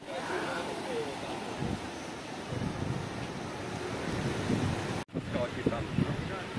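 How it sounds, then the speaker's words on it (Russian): Sea surf washing onto a beach in Side, Turkey, a steady broadband wash with wind buffeting the microphone throughout, a brief dropout near the end, and voices talking faintly over it. "Так намывает волны на берег."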